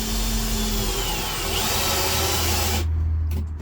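A power drill drives screws into wood in a Land Rover 110 camper build, a loud close motor whine held steadily before it cuts out abruptly near the end.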